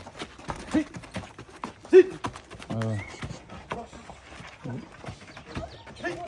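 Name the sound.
horse hooves clip-clop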